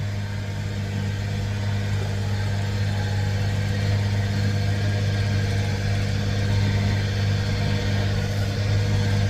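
Bobcat skid steer loader engine running steadily on a farm while hauling manure, a constant low mechanical drone with a strong hum, nearby and unbroken for the whole stretch.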